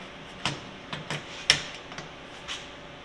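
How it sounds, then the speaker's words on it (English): Several sharp metallic clicks and clunks, one louder latch snap in the middle, as a door is latched on a Polaris RZR Pro side-by-side UTV, close by with no talking. "So, and then I just latch the door"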